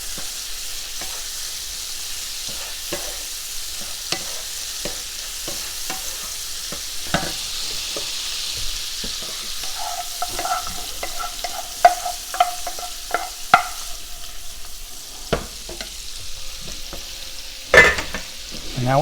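Shrimp sizzle in a white wine scampi sauce in a pan, a steady hiss under sharp clicks and scrapes as the pieces are tossed to coat, growing busier and louder toward the end.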